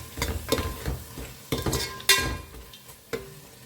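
Cooked masala with lemon juice being stirred in a pan for prawn biryani: a run of close, uneven scraping strokes against the pan, with a low sizzle underneath and a few sharper clinks, no talking.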